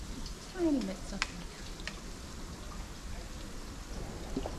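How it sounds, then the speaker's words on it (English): Rain falls steadily in a Yosemite forest, a soft continuous patter and hiss with a few faint nearby knocks and rustles and no speech. "It's like a rainforest and it's actually raining."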